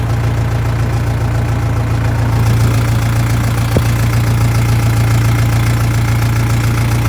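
A Lovol 354 tractor engine runs on its own while moving across a field, a loud, steady diesel drone with a constant low hum and a faint knocking texture, one sharp click partway through.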